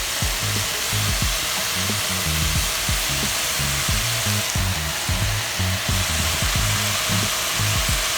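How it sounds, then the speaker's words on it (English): Spinach and softened vegetables sizzle in a frying pan for vegan alfredo lasagna rolls, a steady hissing fry with rhythmic knocks of stirring or a utensil against the pan, close up and without talking. "Now I'm going to go ahead and add the spinach."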